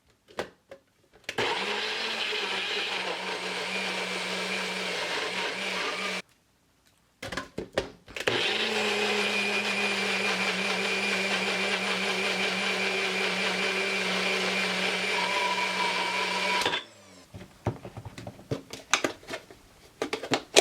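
A kitchen blender whirs loudly blending an avocado hair mask, running steadily for several seconds, pausing briefly, then starting again for a longer stretch before clattering stops.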